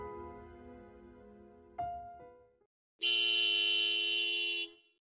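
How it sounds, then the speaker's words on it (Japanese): Sharp, loud car horn blasts in a horror audio drama: a first tone fades, a brief honk follows, then a long, piercing sustained blare cuts off abruptly. "激しく車のクラクションを鳴らす音が聞こえてきた。"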